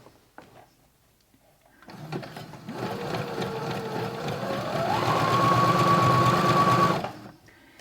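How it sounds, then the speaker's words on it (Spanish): A Brother CS10 sewing machine runs a zigzag stitch, starting after a short quiet lead-in and holding a steady mechanical whir that rises in pitch and speed partway through before stopping near the end. "no os voy a silenciar estos trocitos para que también seáis conscientes del ruido que hace la máquina"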